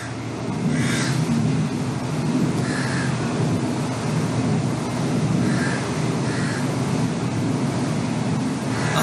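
Crows caw in a few short bursts over a steady, loud wash of surf and open-water noise, with no voices.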